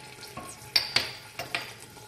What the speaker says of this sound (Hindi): 1 pinch मैं डाल रही हूँ ये मेथी दाना, और 1 teaspoon मैं डाल रही हूँ इसके अंदर ज़ीरा